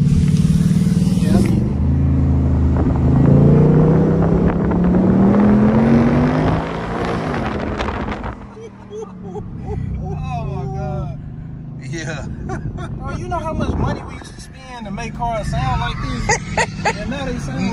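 A 2024 Ford Mustang GT engine and exhaust rev and roar loudly, the pitch sweeping upward over several seconds, then settle as people chatter and laugh nearby.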